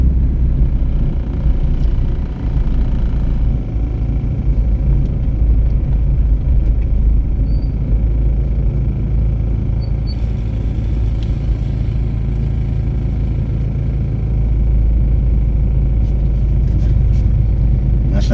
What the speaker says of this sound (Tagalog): may traffic jam.